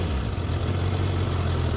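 A Honda CBR1000RR Fireblade motorcycle idles just after starting, a steady low engine rumble that stays even and close throughout.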